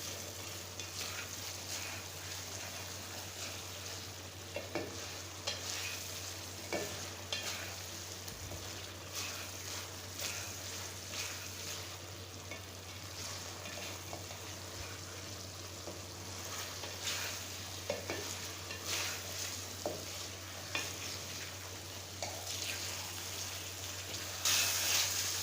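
Chicken karahi fries in a pan with a steady, continuous sizzle, broken by occasional scraping and stirring strokes; a low constant hum runs underneath, and nobody speaks.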